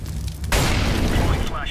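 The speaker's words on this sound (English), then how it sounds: "Deploying flashbang." A flashbang grenade detonating in Counter-Strike on the Inferno map, a loud sudden boom that swells into a sustained roaring blast and fades, heard over game sounds with a voice nearby.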